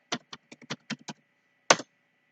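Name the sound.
typing a search on a computer keyboard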